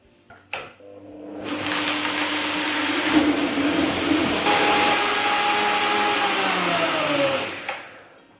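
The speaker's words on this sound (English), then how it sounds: "We're going back to our blender now and we'll blend our soup until it's nice and warm." A kitchen blender blends coconut laksa soup with a steady, loud whirring motor drone that starts after a couple of clicks, holds for about six seconds with a falling pitch near the end, then cuts off.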